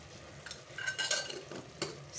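A spoon stirs turmeric and garam masala through a drumstick and potato curry in a pan, with a few scraping strokes and light clinks close by over a faint sizzle.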